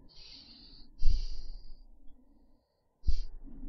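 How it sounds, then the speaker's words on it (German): Heavy, drawn-out breaths close to a Creative Sound BlasterX H6 headset microphone, with long airy exhales and a sharp intake near the end. "Und wieder mal übertriebenes Atmen."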